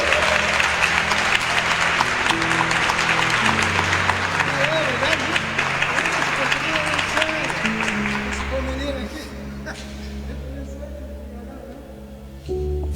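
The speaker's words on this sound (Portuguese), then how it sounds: "Pode aplaudir de novo então, pode aplaudir de novo" A church congregation claps steadily for several seconds as music plays beneath, the applause thinning and fading out near the end while the music continues.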